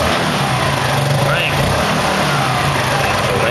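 A Yamaha Mio scooter engine, fitted with a newly installed regulator, revs steadily and close by, a continuous mid-pitched drone with someone talking over it.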